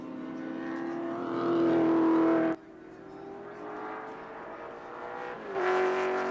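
Touring cars from 1983, including a yellow Ford Falcon, racing at Wanneroo Raceway: a loud engine drone rises and holds, cuts off abruptly, then a second car's engine roars back in near the end.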